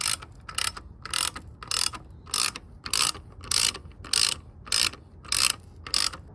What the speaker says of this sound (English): We're gonna torque these down now